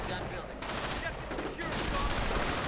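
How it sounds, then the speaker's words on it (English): Mortar fire and scattered gunfire in a 1v1 online war game, dense continuous battle noise with overlapping explosions and shots at steady loudness throughout. "Bit of mortaring again from someone."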